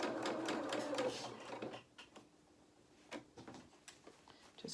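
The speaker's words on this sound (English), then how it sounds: "let's start sewing across" A sewing machine stitches across a gathered doll's skirt, humming loud and steady for about two seconds before stopping, followed by a few soft handling clicks and knocks nearby.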